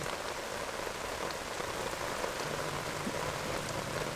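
Steady rain falls through a forest, a dense, even hiss of drops on leaves and ground that continues without pause, close and moderately loud.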